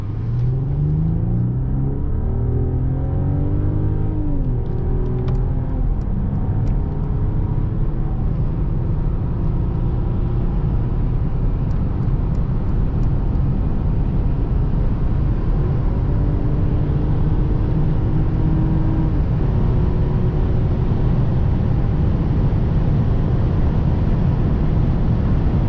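A Mercedes S500 S-Class accelerates onto the Autobahn from the cabin, its engine note climbing through rising gear sweeps over a steady road rumble, loud and close with no talking.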